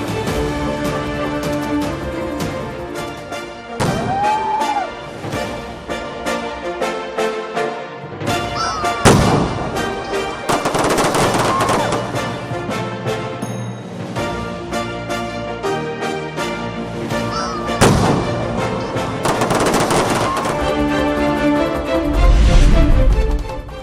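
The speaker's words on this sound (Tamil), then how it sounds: "பிரான்ஸ் தேசிய தினத்தை முன்னிட்டு புதுச்சேரி கடற்கரையில் வான வேடிக்கைகளுடன் கோலாகல கொண்டாட்டம்" Fireworks burst over Puducherry beach during a French National Day celebration, with loud booming blasts scattered across the stretch and a steady music bed running underneath.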